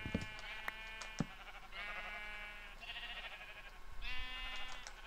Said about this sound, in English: Yeah, my one brown sheep,